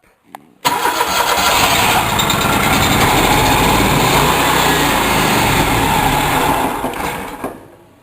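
A Toro long belt snowblower engine cranks from cold and catches at once, then roars loudly and steadily at full throttle before dropping off abruptly at the end.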